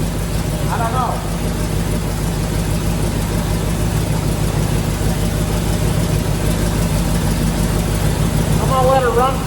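A 1972 Corvette with a 454 engine idles in a steady, even low rumble, with a couple of brief high chirps over it.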